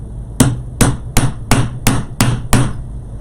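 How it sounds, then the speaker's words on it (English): Seven sharp, evenly spaced hammer strikes drive pegs into an EZ Bow Maker board, each blow loud and close with a quick ringing decay and no talking. "Let me hammer these in."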